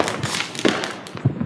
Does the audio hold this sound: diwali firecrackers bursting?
yes